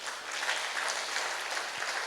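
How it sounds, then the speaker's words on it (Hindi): A crowd at a cultural evening dance-drama program claps loudly and steadily, an even wash of applause heard from some distance with no talk over it. "तो एक बार आप सब उनके लिए जोरदार ताली बजाइए"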